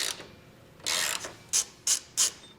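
A ratchet wrench works a long thread-locked bolt loose on a 2021 GMC Sierra: a couple of longer grinding ratchet sweeps, then three short sharp clicking bursts, close and clear.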